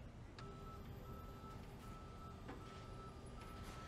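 Reversing beeps from tow trucks in a convoy in Police Simulator clearing cars away, a steady repeating tonal beep heard faintly over a constant engine and traffic hum.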